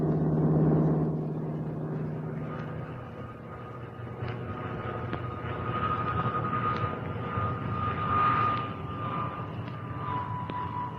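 A Grumman F6F Hellcat WWII fighter plane's engine drones steadily in flight, a continuous loud rumbling roar that swells slightly toward the end, with no talk over it.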